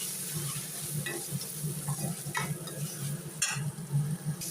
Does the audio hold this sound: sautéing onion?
yes